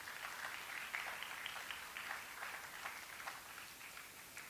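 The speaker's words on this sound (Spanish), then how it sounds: "Dale un aplauso a Cristo" A church congregation claps in a faint, steady patter of scattered hands, soft and somewhat distant, continuing without a break.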